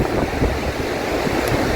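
Wind buffeting the microphone over a continuous rush of waves on the shore, loud and steady with no voices.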